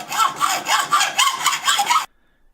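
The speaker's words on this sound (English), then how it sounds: "It's worth taking your time when you're sawing, just nice steady strokes" A hacksaw cuts through wood and stainless metal in about eight steady, rhythmic strokes, each a loud, close rasp, before stopping abruptly into silence.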